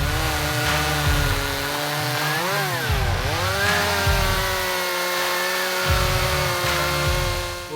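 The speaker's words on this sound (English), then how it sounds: "Today we're going to take a look at the electric versus petrol chainsaw" A chainsaw runs alone and loud, its steady motor whine dipping and recovering as the throttle eases off and opens again, a continuous close-up buzz with no voices.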